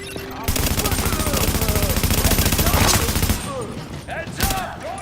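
Sustained automatic gunfire from a shootout in The Division, a rapid dense rattle of shots lasting most of the clip with voices calling out in the mix, then a few scattered bursts near the end.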